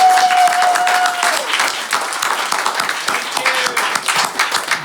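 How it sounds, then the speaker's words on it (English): A round of applause breaks out at a community meeting, a fairly close, dense patter of clapping that thins slightly as it goes on, with a faint tone and scattered voices underneath. "I think we should give her a round of applause"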